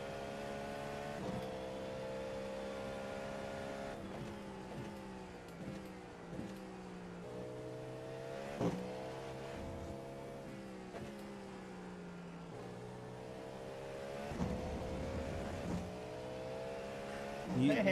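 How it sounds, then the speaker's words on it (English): Race cars in a Sebring endurance racing video game drone steadily with faint engine whine and occasional revving, staying quiet and distant throughout. "if I'm not spotting, the cars are really quiet, and then if I start spotting, they get really loud."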